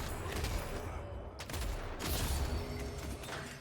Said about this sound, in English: So I just shoot him.